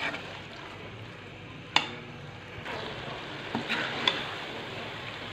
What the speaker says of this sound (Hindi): छः से सात मिनट के लिए हमने चिकन को अच्छे से मसाले के अंदर भून लिया है